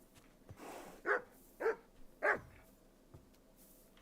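A dog in the medieval video game Kingdom Come: Deliverance 2 gives three sharp, loud barks at a moderate distance, evenly spaced about half a second apart, against a quiet ambient background.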